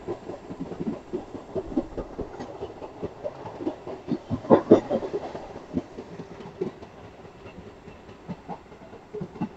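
A MEMU express train, service 18027 from Kharagpur to Asansol, rolls into Burnpur railway station past the IISCO steel plant, with rhythmic clickety-clack of wheels over rail joints and a rumbling car body, close and steady.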